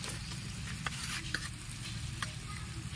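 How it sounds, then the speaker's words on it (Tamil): Chicken fries on a tawa with a close, steady sizzle, broken by intermittent scraping and clacking strokes as the pieces are stirred and turned, over a low background rumble. "நல்லா நம்ம இப்போ ஃப்ரை பண்ணணும்"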